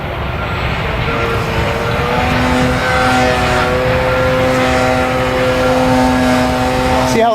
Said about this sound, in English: I'm going to show you a knife edge spin with the mix off.